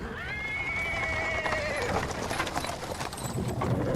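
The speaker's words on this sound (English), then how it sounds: "He's interrupted by the sound of wheels rolling on the paving stones. A cart drawn by a sad little horse appears from around the corner." A horse pulling a cart on paving stones in Pathfinder: Wrath of the Righteous gives a loud, close whinny, while hooves clip-clop and wheels rumble steadily beneath it and carry on after the call.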